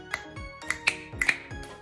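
Several crisp finger snaps in an uneven rhythm, close and fairly quiet, each a short bright click with a faint ringing tone.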